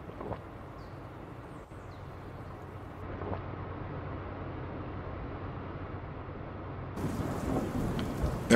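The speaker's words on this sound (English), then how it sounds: "There's a rain again." Steady rainfall with a low rumble of thunder rolling underneath in the video game Dustland Delivery, growing slightly louder toward the end; no voices.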